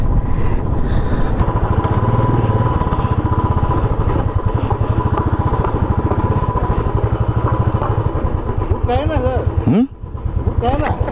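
A motorcycle on a long ride from Kolkata to Kanyakumari drones loudly and steadily at close range while someone talks over it, until the engine note drops sharply near the end.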